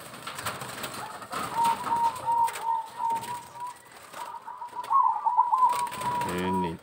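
Zebra doves (perkutut), a freshly paired male and female, give a soft, steady cooing that runs through most of the moment, close to the microphone, with a rougher bubbling burst toward the end and no talking.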